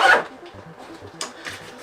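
A zipper pull on a Radioactive GWA Citadel Micro Crew 5 EDC backpack, its pull wrapped in heat shrink, gives a short, close, soft rasp, then a second quieter zipping stroke a moment later.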